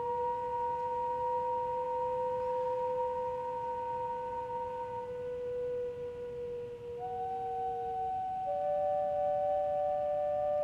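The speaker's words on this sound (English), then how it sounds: "this was the sound of the whistles of the shoes." Two steady whistling tones from whistling shoes hold for several seconds, then shift to slightly different pitches, faint over a soft hiss.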